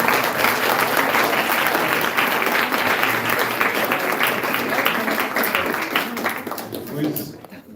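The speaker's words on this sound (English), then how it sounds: "give one big applause to Krishna Kshetra Maharaj" An audience at a devotional camp gathering breaks into sustained applause, a dense continuous patter of many clapping hands with crowd voices mixed in, staying loud throughout before thinning out at the very end.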